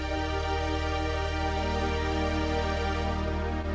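An electronic keyboard sounds dense, sustained three-note chords with the MCS Plus feature extending them, forming a thick continuous wash of harmony at steady volume with no pauses or speech.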